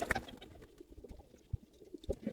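High flyer Giribaj pigeons at a farm coo softly and intermittently, faint and somewhat distant, with scattered flutters and light rustling between the calls.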